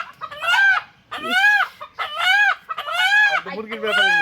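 A chicken being caught, giving a run of five loud, close, strained squawking clucks in quick succession with brief gaps, and faint background noise between calls.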